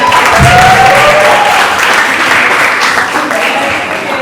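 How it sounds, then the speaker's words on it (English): Applause from a conference audience at a London creative-industry event fills the room, loud and dense throughout, with a few faint voices rising above the clapping. "Please give us a round of applause."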